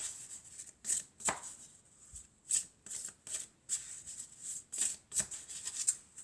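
Tarot cards being shuffled by hand, a quiet close series of crisp riffling bursts in an irregular rhythm, each followed by short pauses.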